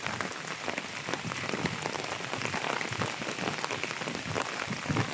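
Rain falls steadily on an umbrella outdoors beside a fish pond, making a dense, close patter of drops that continues evenly without any voices.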